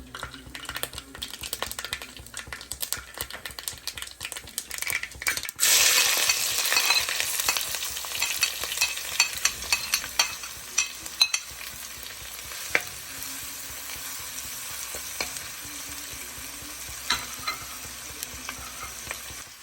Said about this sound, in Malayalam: കടുക് പൊട്ടി കഴിയുമ്പോൾ നമുക്ക് അതിലോട്ട് ഇഞ്ചി, ചെറിയുള്ളി, വെളുത്തുള്ളി എല്ലാം കൂടെ ചേർത്ത് കൊടുക്കാം, ചെറുതായിട്ട് അരിഞ്ഞത്.